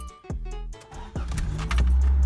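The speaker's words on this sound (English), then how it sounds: "first thing you're going to want to do is turn the car on" A Toyota AE86 engine cranks twice and catches, then settles into a loud, steady idle close by, with no talking.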